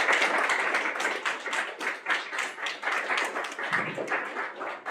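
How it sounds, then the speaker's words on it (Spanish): A small audience at a literary reading gives warm applause, with steady, fairly close clapping from a modest group that holds throughout with slight swells. "a Miguel García Ramírez y Armando Cisneros, para quienes pido un cordial aplauso."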